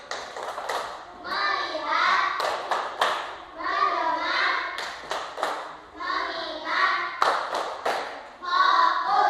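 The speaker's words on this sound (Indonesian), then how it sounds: "Ya, fokus ya, tepuk fokus." A third-grade classroom does a rhythmic focus clap: sharp synchronized hand claps in short patterned groups punctuate the children's loud unison chanting, repeated several times.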